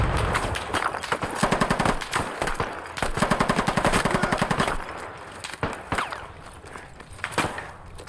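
Machine gun fire from a video game, with rapid automatic bursts repeating in dense runs around the middle and a few scattered shots near the end, loud and continuous throughout.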